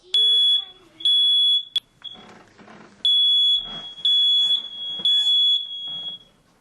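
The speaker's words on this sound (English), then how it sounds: "Its first beeps scream through the upstairs, but Lily sleeps peacefully" A piercing smoke alarm beeps in loud, repeated high-pitched bursts upstairs in a quiet house, with quieter rustling and muffled sounds between them.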